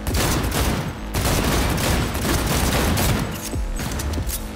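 Rapid pistol gunfire in the video game Cyberpunk 2077: dense, loud bursts of shots in quick succession with short gaps, sounding like a busy firefight.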